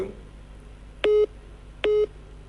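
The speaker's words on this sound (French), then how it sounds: "même le téléphone est saturé" A telephone busy signal on a saturated phone line during a radio call-in show sounds as two identical steady beeps about a second apart, clear and fairly loud over faint line hiss.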